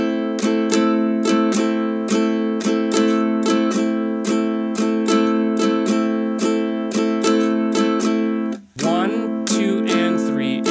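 Close ukulele playing a repeating strumming pattern of chords, crisp even strokes in a steady beat, briefly interrupted by a sharp scrape near the end before the strumming resumes.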